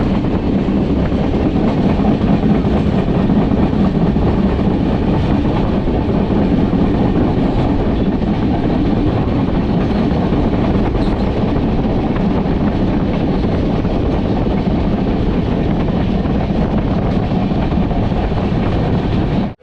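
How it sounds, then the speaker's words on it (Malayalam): A Mandovi Express train on the Konkan Railway during the monsoon rolls loudly and continuously, with rhythmic clickety-clack of wheels over rail joints and steady rushing noise close to the microphone. "വേറൊരു റെയിൽവേ സ്റ്റേഷനിൽ വണ്ടി എത്തി."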